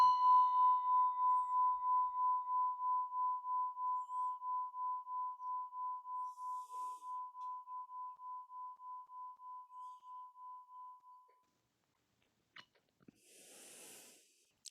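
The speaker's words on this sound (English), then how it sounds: "So I'm going to ring the bell to honor Thai's presence here with us." A meditation bell struck once, its clear sustained tone ringing out alone and slowly fading over about eleven seconds, followed by quiet breathing and faint rustles.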